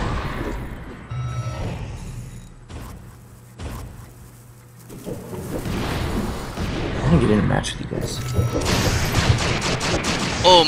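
Gunfire from the video game Secret Ponchos: bursts of rapid shots and impacts, with a denser barrage building toward the end, mixed with game sounds and a voice talking over the action.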